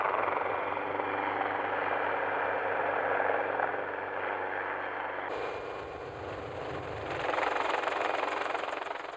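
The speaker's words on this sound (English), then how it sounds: "Helicopter mustering has revolutionised the industry." A helicopter mustering cattle in the Australian outback drones loudly and continuously, its rotor and engine noise shifting and swelling midway as it moves past.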